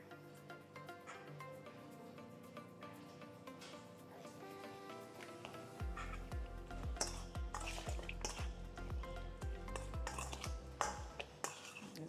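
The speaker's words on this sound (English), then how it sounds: "Mix everything together." A spoon stirs shrimp scampi with dried herbs and pepper in a pan, giving soft scraping and a light sizzle, then a quicker run of rhythmic taps and scrapes against the pan, close and fairly quiet.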